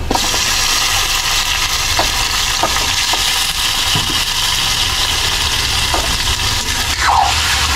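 Chicken frying in a pan with garlic and onion, a loud continuous sizzle with occasional stirring clicks and a low hum beneath it.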